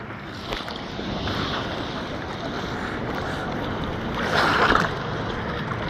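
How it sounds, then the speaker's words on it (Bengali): Sea waves crashing over swimmers at Kalatoli beach in Cox's Bazar, a continuous roar of surf and wind with one louder wash breaking near the end. "ঢেউ আমাদের মাথার উপর দিয়ে যাচ্ছে।"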